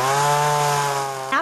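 A chainsaw cutting into wood at a chainsaw carving boot camp drones loudly and close in one steady, buzzing engine tone, with a brief rev near the end.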